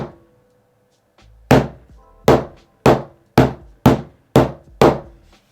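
A hammer strikes an iPhone 13 Pro seven times in a steady rhythm, each blow a sharp, loud, close thwack with a short ringing tail, preceded by a quieter tap.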